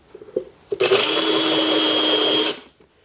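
Drill-powered pencil sharpener grinding a brand new pencil, a loud high whirring burst lasting under two seconds, framed by a few light handling knocks before and after.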